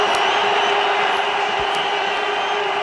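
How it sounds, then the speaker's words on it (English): A cricket stadium crowd at a Pakistan versus India ICC Champions Trophy final roars loudly and steadily after a big hit for six, a dense continuous wall of cheering with no let-up. "The crowd go berserk."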